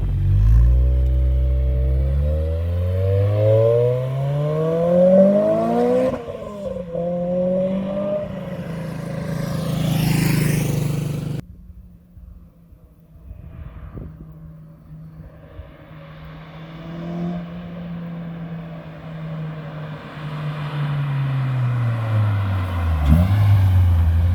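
A naturally aspirated Honda Civic Type R EP3 engine revving up through the gears, pitch rising and dropping with each shift, then settling into a steady hum before revving again.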